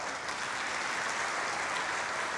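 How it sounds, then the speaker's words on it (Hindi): Audience clapping hands at a large gathering of thousands, a dense, steady wash of applause throughout, moderately distant and without talk. "जब आप ताली बजाते हो"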